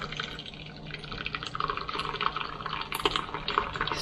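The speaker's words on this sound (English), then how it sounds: "you're going to want to pour this through the cloth." Melted beeswax and water pour and trickle steadily through cheesecloth with light splashing and dripping, close and continuous, with a faint hum underneath.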